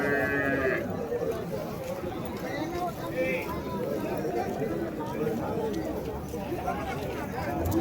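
Cattle and bulls fill an open livestock market at Vaniyambadi, with a dense, continuous background of animal sounds and crowd chatter, and people talking throughout.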